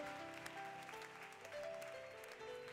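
A church congregation applauding and cheering in praise, a continuous moderate wash of clapping with sustained tonal music underneath, steady throughout without spoken words.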